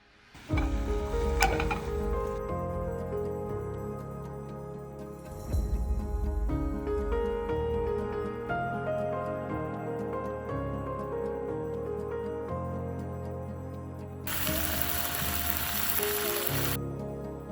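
Steak sizzles steadily in a pan inside a camper van in Baja, Mexico, frying for tacos; a constant crackling hiss runs under light background music, with a brief louder burst of spitting near the end.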